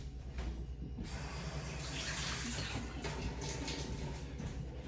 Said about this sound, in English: Rinse it real quick.